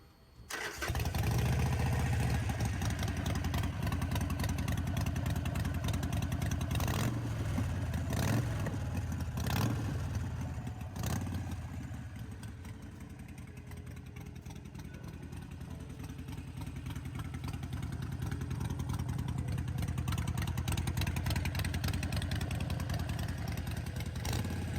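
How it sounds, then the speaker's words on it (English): A Harley-Davidson Iron 883 motorcycle with loud aftermarket pipes cranks and fires up, then settles into a deep, loud, rumbling idle that runs continuously and close for over twenty seconds, with no talking. "Let me turn on this bike. This bike is kind of loud."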